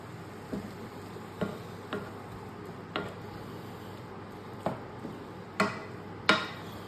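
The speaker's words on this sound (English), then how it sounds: "I'm just going to stir it in." Garlic and other ingredients for South Asian-style surf and turf noodles being stirred in a pan: a low background sizzle with separate sharp taps and scrapes of a utensil at irregular intervals, the last few louder.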